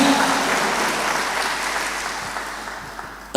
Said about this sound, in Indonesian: Boleh sambil tepuk tangan.